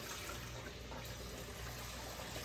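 Vegetable broth is poured slowly from a pot through a strainer, making a steady, continuous splashing trickle of liquid with no talking.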